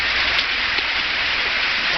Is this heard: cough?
no